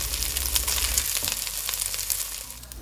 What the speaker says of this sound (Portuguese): a hora que o frango estiver bem fritinho, douradinho, a gente tira ele da panela